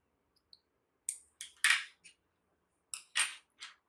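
Scissors snip through crochet yarn after a butterfly granny square is finished: several short, crisp metallic cuts close by, in two small clusters with brief pauses between, and no talking.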